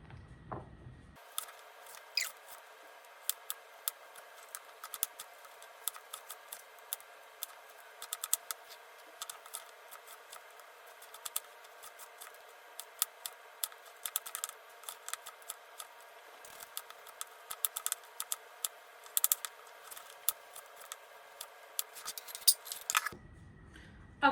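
Scissors snip steadily through ingredients for a homemade Mr Potato snack, a dense run of small crisp cuts close by with no talking.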